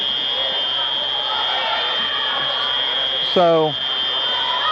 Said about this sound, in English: I'm thinking that the fire alarm is going off.